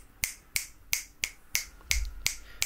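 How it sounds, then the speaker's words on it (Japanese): Eight crisp finger snaps made to test a camera-mounted stereo condenser microphone, close and sharp, spaced at a steady rhythm of roughly one every third of a second in a quiet room. "指パッチンをしてちょっと音のね音を確かめていきましょう"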